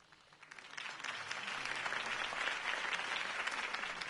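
Crowd applause from a political rally in Batman The Telltale Series, swelling in over the first second and then holding as a steady, dense clapping from a distant crowd without speech.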